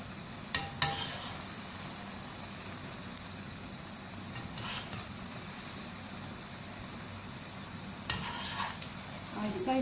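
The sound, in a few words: potato spinach pakoras frying in oil, being turned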